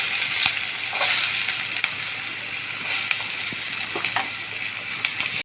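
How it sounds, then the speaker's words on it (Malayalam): Onions and brinjal sautéing in hot coconut oil give off a steady, fairly loud sizzle, with a few clicks and scrapes of stirring scattered through it and no talk. "നമുക്ക് ഈ ഉള്ളിയും വഴുതനങ്ങയും എല്ലാം കൂടെ ഒന്ന് വഴറ്റി എടുക്കണേ"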